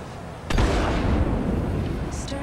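Missiles launched at an enemy ship in the space combat game Manticore SRT erupt in a sudden loud blast followed by a sustained roaring rumble, with a faint high electronic chirp near the end.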